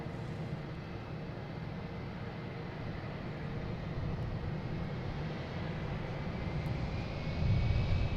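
JetBlue flight 1152 from Orlando arrives at Boston Logan with a steady, distant jet rumble that builds gradually and swells near the end as it draws closer, with no talking.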